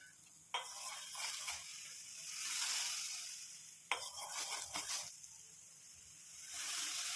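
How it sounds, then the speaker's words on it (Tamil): Milk mixture simmering in a pan on the stove, a steady soft bubbling hiss with stirring scrapes and two sharper clatters against the pan, no talking. "நல்லா கொதி வரட்டும்."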